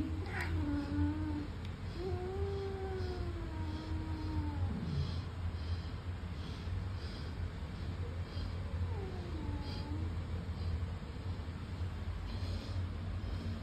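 A cat gives several drawn-out meows and wavering calls spread across the span, close and moderately loud, with pauses between them over a steady low background hum.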